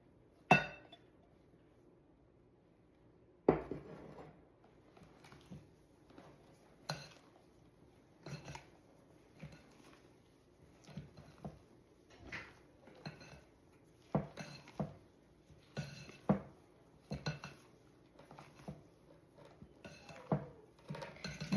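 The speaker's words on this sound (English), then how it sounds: "we're going to take the rest of the egg whites and we're going to fold those in." Lemon ricotta pancake batter being folded with egg whites in a bowl: a spoon or spatula knocks and clinks against the bowl in a steady series of sharp taps, fairly close, with a soft scraping bed between them and no talk.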